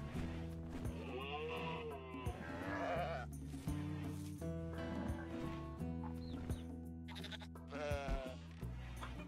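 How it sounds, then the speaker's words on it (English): Sheep in the colony game RimWorld bleat in several drawn-out, wavering calls, close and clear, one after another with short gaps, over a low steady game drone. "Oh, we got another sheep."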